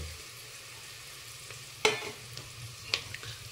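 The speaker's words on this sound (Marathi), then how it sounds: "आणि मग तो चेचलेला मसाला तो सगळा ह्याच्यामध्ये मिक्स करायचा" Crushed masala being stirred into onion frying in a pan while a crab curry is prepared, a low steady sizzle with two sharper scraping stirs standing out.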